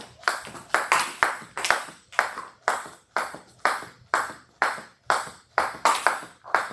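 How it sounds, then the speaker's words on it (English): A jump rope slaps a gym floor in a steady, even rhythm, roughly two crisp smacks per second, loud and close with no talking, during a boxing fitness workout. "So you can hear the jump rope hitting the floor."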